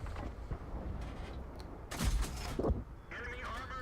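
Tank cannon fire in a tank battle video game, aimed at an Italian tank: a couple of heavy booming shots with mechanical rumble under a steady engine drone, while someone talks over it.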